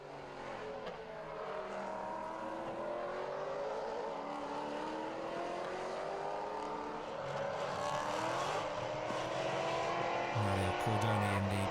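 Maserati Trofeo race cars at speed on the Red Bull Ring in 2015, engines droning and shifting pitch steadily throughout, with a louder rev and a sharper burst near the end; commentary runs over the track noise.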